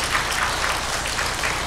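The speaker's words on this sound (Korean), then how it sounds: "그리고 또 한 해 동안 애쓰고 수고한 나 자신에게 감사의 박수를" A church congregation claps together during an end-of-year service, a steady, even wash of applause with no voice over it.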